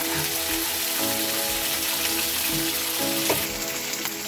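Steady, dense sizzling and crackling of chicken pieces frying in hot oil, close by and continuous throughout.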